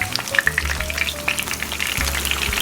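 Frozen Magnolia chicken lumpia frying in hot grease, a continuous crackling sizzle with bright pops and spits, close and steady throughout.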